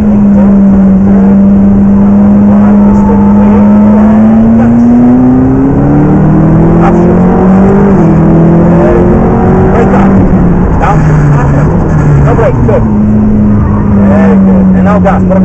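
A McLaren P1 or 650S race car drives hard around a racing track, its engine loud and close, revving up through rising and falling pitch as it accelerates and shifts, with constant roaring engine noise throughout.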